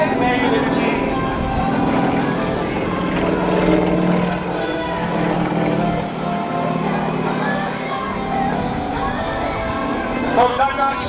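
A Sukhoi aerobatic aircraft flies a demonstration at an airshow, its engine droning steadily and loudly throughout with no voices.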